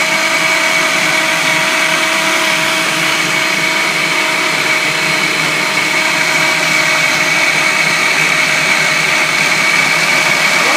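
A Ninja Mega Kitchen System 1500 blender runs with a loud, steady motor roar and whine, close up and unbroken for several seconds, with no voices over it.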